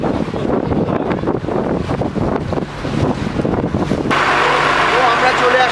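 Inside the engine room of a river launch boat on the Matla river, a loud, steady mechanical roar fills the space, with a harsher, brighter wash of noise taking over near the end.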